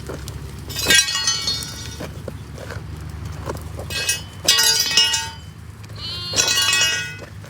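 Goats and sheep being fed on a farm give loud, close bleats in three separate bursts, with quieter shuffling and knocking between the calls.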